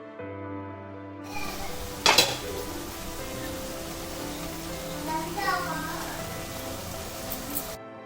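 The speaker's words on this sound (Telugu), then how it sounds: "ఇప్పుడు సన్నగా తరిగిన టొమాటో ముక్కలను వేసి కుక్ చేసుకోవాలి." Chopped tomato pieces cooking in a pan for Telugu-style boondi curry, with a sharp clatter of added ingredients followed by steady frying hiss and occasional utensil clinks.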